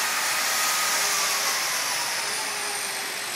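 A grinder runs continuously on a 1929 banger car under restoration, a loud, steady high-pitched whine and rush that holds nearly level throughout, with no talking over it.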